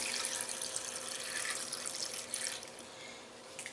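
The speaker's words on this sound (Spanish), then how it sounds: "Y también le vamos a poner lo que es una tacita de agua." A small cup of water poured into a kitchen blender holding fresh lemon juice, a steady close splashing pour with no voices.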